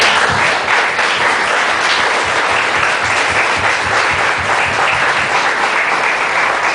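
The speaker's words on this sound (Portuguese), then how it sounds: "e aplauda o Senhor Jesus." A church congregation at an evangelical service applauds together, a loud, dense, sustained burst of clapping filling the room without letup.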